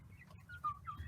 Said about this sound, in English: So this is an American Bresse rooster.